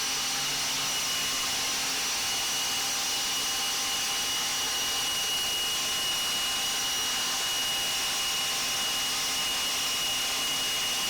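A Dewalt 60V FLEXVOL cordless leaf blower blows grass clippings away with a steady, loud, high-pitched whine of rushing air that holds an even tone from start to finish, with no talking.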